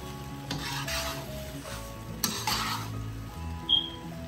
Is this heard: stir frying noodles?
yes